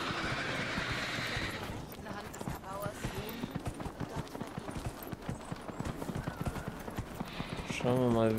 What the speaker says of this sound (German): Ich rufe mal das Pferdchen.